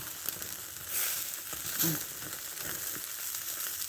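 Chicken roasting over a charcoal fire gives off a steady, soft sizzle and crackle, with a couple of slightly louder hissing swells, close by and with no talk.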